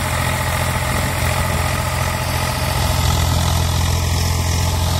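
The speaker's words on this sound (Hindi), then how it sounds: "ये ट्रैक्टर लगभग 15-18 घंटा डेली चल रहा है थ्रेसर पर" An Eicher 485 air-cooled tractor engine runs steadily on a wheat thresher, a loud, continuous low drone with a constant throb, alone and close by.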